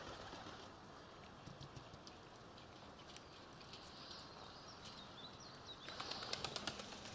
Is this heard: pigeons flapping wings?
yes